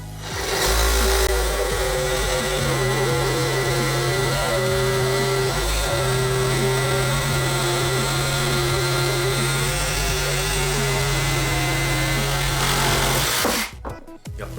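A DINSHARE 20V cordless reciprocating saw fitted with a Gold C blade cuts through material. Its loud, close buzzing drone holds steady for about thirteen seconds, then the motor winds down and stops.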